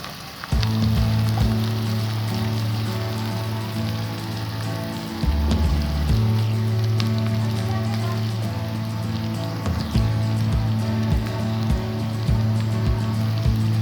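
Ginger garlic paste frying in a pan for aloo gobi, giving a steady loud sizzle and crackle throughout with a constant low hum underneath and no talking.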